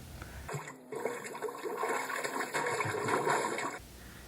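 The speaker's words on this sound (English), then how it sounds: "Shout out to the Flushing fountain in Seattle. I haven't got to hear that in a long time." Flushing drinking fountain in Seattle, a steady close rush of water that starts abruptly, pours for about three seconds and then cuts off.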